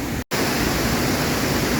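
Rushing water near a shore, a loud steady broadband roar that cuts out for an instant before continuing unbroken.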